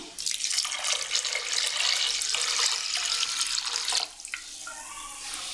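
Water pours steadily from a tap over soaked split peas for a Moroccan split pea soup, a loud continuous splashing rush that cuts off after about four seconds, leaving a quieter trickle.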